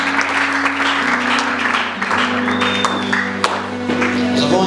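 A church congregation applauds during a Sunday service, a dense, steady round of clapping filling the hall, with a held musical tone running beneath it.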